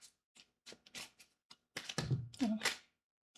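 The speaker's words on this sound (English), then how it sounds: "And let's shuffle." Tarot cards being shuffled by hand at a table, a series of short papery taps and riffles in irregular bursts, closer and louder toward the end, with no talking.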